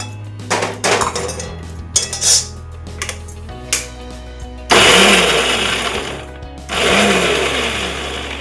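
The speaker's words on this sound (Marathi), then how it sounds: "चला मिक्सरच्या भांड्यात काढून हळद पावडर, लसूण आणि मिरची करून घेऊया." A kitchen mixer grinder whirs in two loud bursts grinding turmeric powder, garlic and chili, preceded by clattering as the jar and lid are handled, the motor roaring close by each time.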